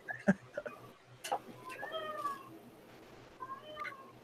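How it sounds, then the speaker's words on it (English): A cat meows several times, short and fairly faint, against a quiet room hum with small ticking noises. "I hear a cat."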